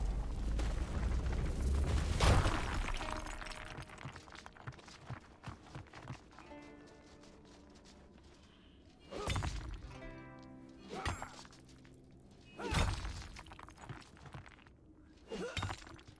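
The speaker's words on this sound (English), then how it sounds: "Rock explosion." Rock explosions in the game Runescape: Dragonwilds, several sharp crumbling blasts spaced across the stretch with rattling debris between them, over quieter game ambience.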